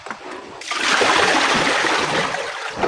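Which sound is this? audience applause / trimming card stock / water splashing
water splashing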